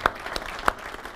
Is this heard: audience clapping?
yes